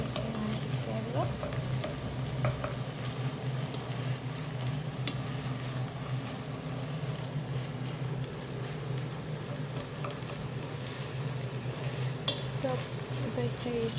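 Garlic frying in a pan while pasta is made, a steady close sizzle and crackle holding for the whole stretch, with faint clatter and a low hum underneath.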